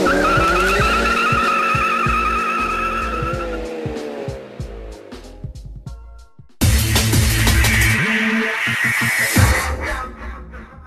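Renault R21 GTT race car with Brembo discs braking hard, tires squealing with a tonal skid that slides down in pitch, then the engine roars back loudly and close.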